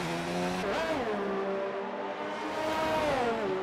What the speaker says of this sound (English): I listen to the engine. I'm not looking at the rev counter all the time.